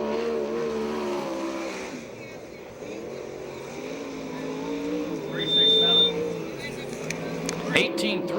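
Ford-powered USAC/CRA sprint cars race around Perris, California, engines howling and shifting pitch as they pass, with a loud surge near the end while an announcer talks over the racket.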